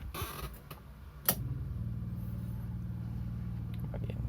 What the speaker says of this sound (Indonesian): Saya coba starter dulu mobilnya.